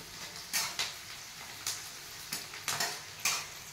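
Vegetables are stirred in a hot pan with turmeric, garam masala and red chilli added, giving a steady soft sizzle broken by several sharp clinks of a spoon against the pan at irregular intervals, close and fairly quiet.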